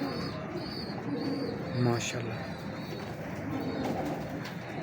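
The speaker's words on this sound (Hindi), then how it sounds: "बड़ी अच्छी कबूतरी है" A young female Teddy-breed pigeon gives a brief, low coo up close, with soft chirps around it and someone speaking over the scene.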